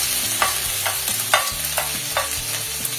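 Chopped ginger, garlic and green chilli sautéing in hot oil for fish cutlets, a steady close sizzle broken by regular bright scrapes of a spoon stirring the pan roughly every half second, with no talking.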